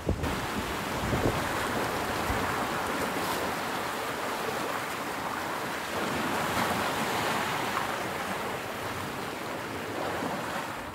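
Surf rolls steadily onto a Prince Edward Island beach, a continuous broadband wash of breaking waves with wind buffeting the microphone, loud and close with no voices.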